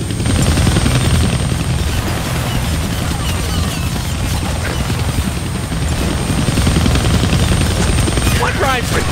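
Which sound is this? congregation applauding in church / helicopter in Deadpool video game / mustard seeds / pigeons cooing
helicopter in Deadpool video game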